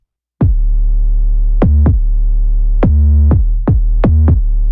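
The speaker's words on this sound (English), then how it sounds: "the most important thing about this section is definitely the 808s" Deep, booming 808 bass notes from a K-pop style track hit one after another in a sparse, syncopated pattern, loud and alone, each note sliding and ringing out.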